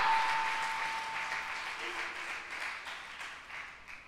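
A church congregation claps during a Holy Communion service, a moderate, fairly distant patter that slowly fades, with a voice speaking over it.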